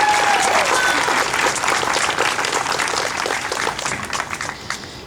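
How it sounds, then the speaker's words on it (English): A large outdoor crowd at an AIDS Walk gives a big round of applause for a charity CEO, loud sustained clapping that fades slightly toward the end. "giving a big round of applause and a big recognition to Paul Fitzgerald"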